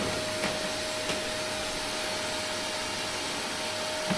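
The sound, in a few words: vacuum cleaner running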